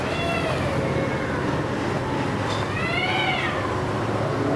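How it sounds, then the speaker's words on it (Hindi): A cat cries and meows repeatedly inside an old haveli, with drawn-out wailing calls over a steady, loud background noise and no talking. "सबसे पहले हम दाखिल होते बिल्ली के रोने की आवाज़ आ रही थी"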